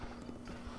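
Horse hooves clip-clop in a steady, close rhythm while a horse is led along a path to Kakariko in The Legend of Zelda: Breath of the Wild, with a faint steady hum underneath.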